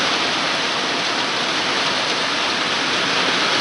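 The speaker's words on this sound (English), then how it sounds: "Rain delay." Rain pouring down during a morning thunderstorm, a dense, steady hiss of falling water with no breaks, loud and even throughout.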